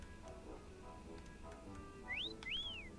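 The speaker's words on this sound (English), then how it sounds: "Do you hear that whistling getting closer?" Rising and sweeping whistle tones from the video game Yooka-Laylee, two quick glides late in the clip, faint and thin above a low rumbling game background, with no talking.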